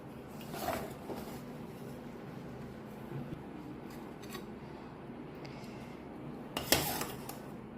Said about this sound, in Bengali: তাই আমি ভাতটা বেড়েই নিচ্ছি।